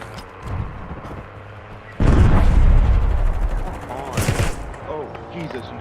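AK rifle fire in a Call of Duty Warzone match, a sudden loud burst of rapid gunshots and booms kicking in partway through after quieter game ambience, with a voice talking around it.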